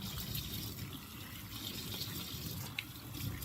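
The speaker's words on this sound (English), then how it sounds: "I'm just going to rinse off the celery." Tap water runs steadily over celery being rinsed at a kitchen sink, a continuous close gush that is fairly quiet, with slight splashes from the stalks and no talk.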